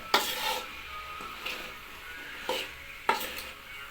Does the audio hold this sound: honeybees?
no